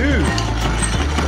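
A coffee grinder runs close by with a steady, loud mechanical whir and a faint rattling texture, heard alone for about a second.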